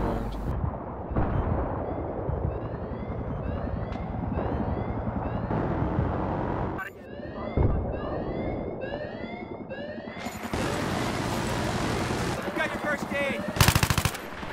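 Sustained automatic gunfire and explosions in the video game Battlefield 3 during a helicopter fight on the Damavand map, dense bursts running throughout with loud blasts near the end, voices talking over the action.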